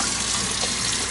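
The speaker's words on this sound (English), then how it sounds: "I'm going to switch this all the way to hot. You can see the water pressure is good." A kitchen faucet's hose spray attachment runs hot water at strong pressure, a steady, loud broadband hiss and splash with no break.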